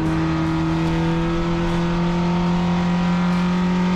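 Race car engines droning loudly on a circuit during a Turkish track championship race, a sustained steady hum with strong tonal whine and faint periodic swells, with no break.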